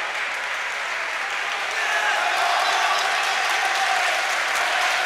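A crowd at a judo championship applauds in a dense, steady wash of clapping that swells slightly, heard from within the arena with faint voices underneath.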